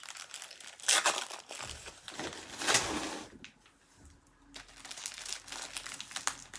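Crinkling plastic packaging as an advent calendar is opened at home, irregular rustling bursts close to the mic with quieter pauses between.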